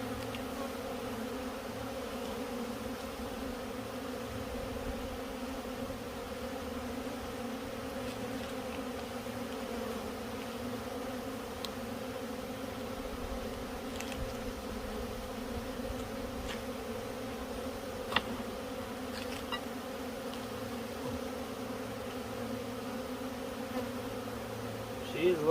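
Honeybees buzz in an open hive during an October hive check, a steady, close, continuous droning hum that holds evenly throughout.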